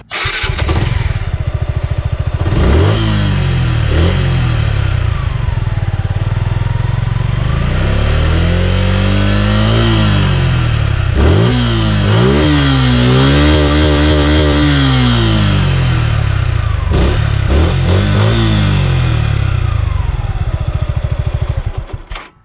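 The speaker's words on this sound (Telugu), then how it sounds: "సుజుకి జిక్సర్ 155cc BS6 యొక్క ఇంజిన్ సౌండ్ అయితే వినండి మీరు ఇప్పుడు" A Suzuki Gixxer 155 BS6 motorcycle's 155cc engine idles steadily, then revs up and down several times with rising and falling pitch, close and loud throughout with no talking.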